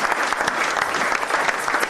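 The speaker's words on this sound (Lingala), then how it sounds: "Acclamez très fort le Seigneur" A church congregation claps loudly during a sermon, with dense continuous applause filling the room and a faint voice beneath it.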